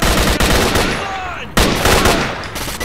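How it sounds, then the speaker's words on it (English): Sustained gunfire from the video game Stalker: Call of Pripyat, loud and close, with dense bursts filling the clip and a brief break around the middle before shooting resumes. "What are you shooting at?"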